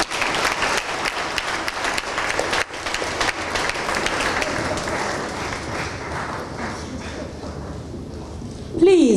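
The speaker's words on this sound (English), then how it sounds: "another round of applause for him" An audience applauds at a live televised event, dense steady clapping that fades slightly and ends as a voice comes in.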